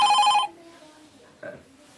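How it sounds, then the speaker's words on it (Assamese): A telephone bell rings loudly for about half a second with an incoming call, then cuts off, leaving a quiet room with faint brief sounds afterward. "আমাৰ এটা ফোন কল আহিছে ফোন আহিছে"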